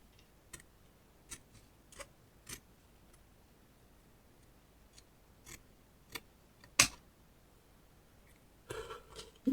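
Scissors snipping through paper while shaping a flex-wave lunch box craft, a handful of sharp separate clicks spaced out over quiet, with one louder snip near the end and a brief rustle after it.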